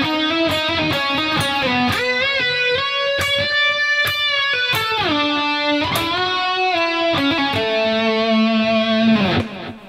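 Electric guitar, played through distortion, works through the solo section of a song in a guitarist's style, with sustained bends and slides between quick picked runs, loud and close throughout.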